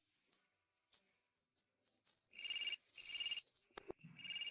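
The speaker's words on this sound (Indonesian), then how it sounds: "Ini telepon dari ayah angkat." A telephone rings with an electronic ringtone, its chiming bursts coming in near the end after a few scattered soft sounds.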